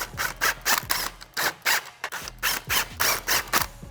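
Repeated metallic ratcheting as factory exhaust clamps are snugged up on the H-pipe of a 2018-2023 Mustang GT, about a dozen short even bursts in a steady rhythm, close and clear.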